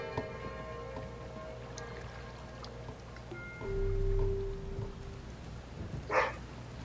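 Rain patters steadily in the video game Kingdom, a soft continuous wash under low droning game music, with a brief louder swell in the middle and a short sharp accent near the end.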